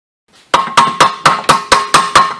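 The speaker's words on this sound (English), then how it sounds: "I'm just going to use a chipping hammer and chip this big flaky bunch of crusty, nasty stuff out of here" A chipping hammer strikes crusty rust on the rear brake of a 2006-2012 Mercury Milan or Ford Fusion, eight sharp, evenly spaced metallic blows with a ringing edge, loud and close, with no talk.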